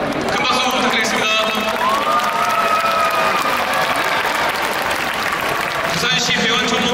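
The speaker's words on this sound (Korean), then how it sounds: "큰 박수 부탁드리겠습니다." Big crowd applause during opening ceremonies of a 2019 Busan summer pro volleyball match, steady clapping and light cheering fill a large indoor arena, with voices mixed in.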